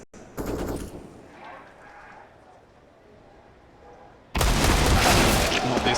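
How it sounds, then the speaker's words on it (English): Loud, rapid bursts of pistol fire from a Five-SeveN in Counter-Strike on the Vertigo map during an IEM Cologne 2023 semi-final: a short volley, a lull, then a longer sustained burst, with voices underneath. "Sun Pius has mowed down 2 with a 5-7"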